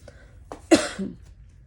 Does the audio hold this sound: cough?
yes